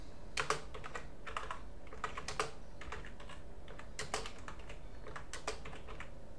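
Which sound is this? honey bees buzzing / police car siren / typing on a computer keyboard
typing on a computer keyboard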